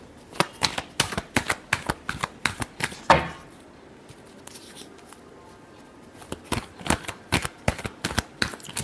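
Tarot cards being shuffled, a run of quick, crisp riffling flicks and slaps, pausing briefly midway before the rapid shuffling resumes, close up and fairly quiet.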